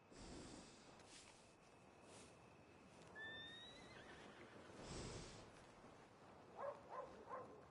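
A horse in Red Dead Redemption 2 gives a loud whinny early on, then snorts and a second neigh follow, with soft clip-clop hooves and a few short blowing breaths near the end.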